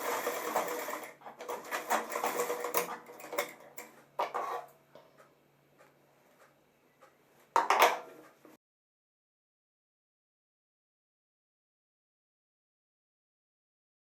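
A sewing machine stitches the zip fly of a pant-cut pajama, a quick close whirring run, then short bursts and clicks before falling silent.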